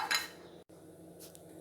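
An iron wok is set down on the stove for frying bread, giving one brief metallic clatter at the start before a quiet kitchen hush.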